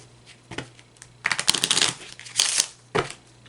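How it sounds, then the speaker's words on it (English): A deck of Kipper and Lenormand cards being shuffled by hand, with several bursts of riffling and flicking separated by short pauses, close and clear with no talk. "I usually shuffle my decks for about 5 times, and that's usually 1 shuffle per element."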